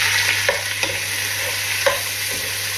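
Tomatoes are stirred into onions frying in a pan, giving a steady close sizzle with a few sharp scrapes of the spoon against the pan, and no voices.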